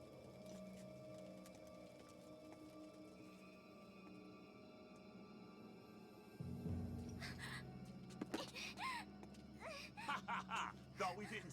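A bird caws a few times in the Fire Emblem Radiant Dawn game, a series of sharp, raspy calls over a low background score, fairly faint and arriving near the end.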